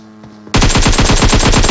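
AK assault rifle with iron sights firing in an esports match of a tactical shooter, a loud sustained burst of rapid regular shots after a half-second quiet lead-in.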